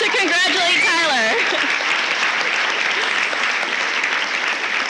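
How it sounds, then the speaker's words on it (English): Audience applause at a high school senior awards night, a steady, full roar of clapping from a large crowd that fills the whole stretch, with a voice speaking over its first moments. "please join me in a round of applause"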